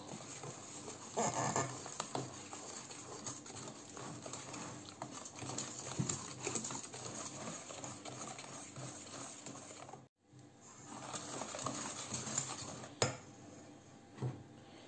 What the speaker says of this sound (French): Ensuite, je vais y ajouter l'huile. Et je mélange.